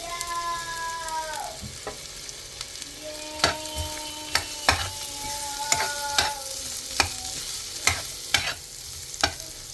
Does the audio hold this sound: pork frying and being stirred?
yes